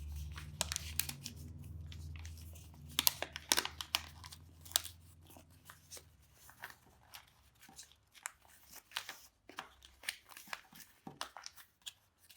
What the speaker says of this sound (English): Mold the paper into a boat shape.